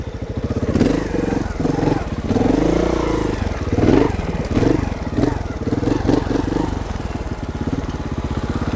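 A Montesa 300RR four-stroke trials motorcycle rolling around a corner, its engine putting steadily at low revs with brief throttle blips and clattery mechanical notes, close and loud throughout.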